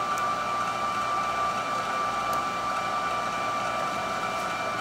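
A REBER Raw Rutes #3 tomato strainer runs while making applesauce, giving a steady, loud motor whine with a constant tonal hum and no pauses or voices.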